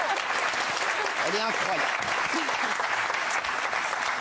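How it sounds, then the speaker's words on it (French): Sustained applause from a studio audience at a French talk show, a steady dense wash of clapping with a voice speaking over it throughout. "Franchement, applaudissements"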